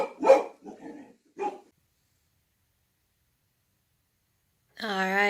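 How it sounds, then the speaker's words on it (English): A dog barks once in a home, a short voiced yelp near the end that comes after a few seconds of a person speaking and then a silence. "My dog's barking."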